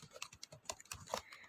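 Rapid keystrokes on a computer keyboard enter text into a spreadsheet, a quick run of light, close taps at an even pace, quiet and alone.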